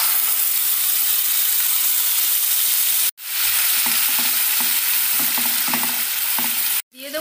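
Blended spice paste with cumin hits hot oil for palak paneer, giving a loud, steady sizzle and hiss with soft stirring scrapes, broken by two brief silent gaps.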